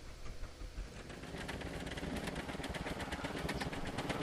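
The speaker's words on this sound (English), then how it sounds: "These engines are near max" Two truck engines in the video game Scrap Mechanic run near maximum, roughly a V8 equivalent, giving a loud, continuous rapid mechanical chugging with steady pulsing that holds for the whole stretch.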